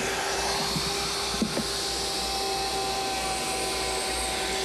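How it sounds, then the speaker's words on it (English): A router fitted with a veneer trimmer attachment trims the front edge of furniture veneer. It gives a steady, loud, high-pitched motor whine that runs the whole time, with a brief bump of handling noise in the middle. "Now we got a special veneer trimmer attachment for our router."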